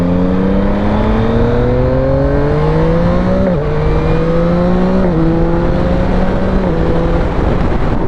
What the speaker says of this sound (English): Beautiful 3-cylinder power, and it's in-your-face torque.